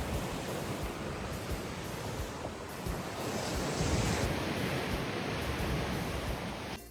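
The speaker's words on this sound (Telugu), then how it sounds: "ఆ వేవ్తో వినండి." Ocean waves wash steadily onto a beach at Cancun, Mexico, a continuous broadband surf roar with gentle swells in loudness and some wind rumble across the microphone, no voices.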